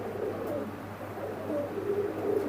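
Soft repeated cooing from high-flying pigeons kept for sale, several low throaty coos rising and falling close by over a steady background hum, with no talking.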